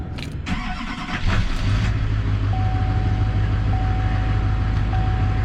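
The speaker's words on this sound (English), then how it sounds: "this is a Duramax diesel" A Duramax diesel pickup truck engine rumbles close by, with a brief rattle before it settles into a steady low drone that holds to the end, with no speech.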